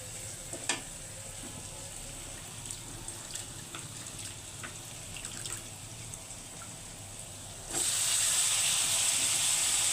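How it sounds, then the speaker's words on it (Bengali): Potato bhaji fries in a pan over a gas flame with a soft, steady sizzle and scattered crackles, then a much louder, brighter hiss surges in near the end. "প্রথমে আলু ভাজিটা রান্না করে নিচ্ছি"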